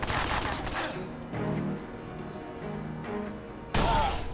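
Gunfire in the Watch Dogs video game: a loud burst of shots at the start, quieter thuds and rumbles in between, then another sharp loud shot near the end.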